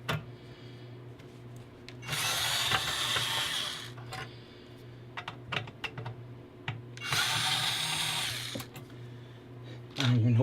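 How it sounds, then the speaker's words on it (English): A power drill or electric screwdriver runs in two sustained whirring bursts, removing screws from an electronics unit during a repair teardown, with quieter handling clicks and clatter between the bursts. "I gotta take a couple more screws out too."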